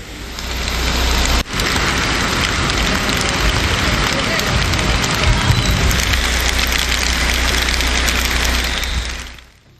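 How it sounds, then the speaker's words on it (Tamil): Heavy overnight rain with cold wind in Tamil Nadu towns: a dense, loud, unbroken hiss of downpour filling the whole stretch, with a brief sharp knock early on and a fade-out at the close. "இரவு முழுவதுமாக விட்டுவிட்டு கனமழை பெய்தது"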